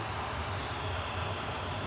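Boeing 737-800 airliner lining up for departure at Manchester Airport, a steady, distant engine rumble and whine with no break.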